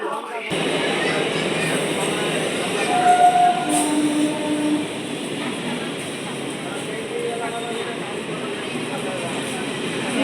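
A train rumbles at a railway station, a broad steady roar of rolling wagons that swells and fades slightly, with voices murmuring faintly underneath.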